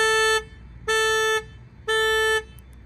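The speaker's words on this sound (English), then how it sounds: "The alarm does work when you hold the button down though." A 2023–2024 Nissan Versa S alarm, set off from the keyless remote, honks three times in a steady, evenly spaced rhythm, loud and close, with short pauses between blasts.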